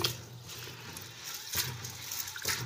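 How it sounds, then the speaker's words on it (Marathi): Khapli wheat grains being rinsed and rubbed by hand in a vessel of water, with splashy sloshing bursts and a soft trickling wash in between. "हे बघा, असं 2 पाण्याने स्वच्छ धुवून घ्यायचे"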